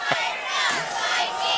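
Crowd cheering and roaring at a high school football game against Bremen, a loud sustained mass of shouting voices filling the stands at close range.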